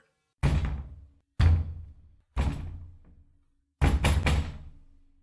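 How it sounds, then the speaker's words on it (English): Heavy pounding on a wooden door: single booming knocks arrive about once a second, then a quick cluster of three hard blows ends the run. Each knock is loud and close and fades with a short ring, with no voices. "pound on the door"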